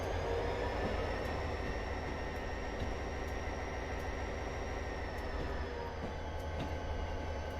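A train rolls along in the game Train Simulator 2020 on New York rail yard track, giving a steady loud rumble with a faint squeal and occasional light clicks, with no talk.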